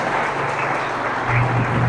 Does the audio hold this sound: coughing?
no